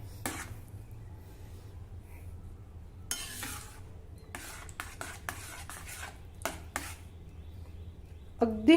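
Sheera, a semolina pudding tinted with saffron, being stirred in a pan: a spoon scrapes and knocks against the metal in short, irregular strokes, fairly close and quiet, with no one speaking.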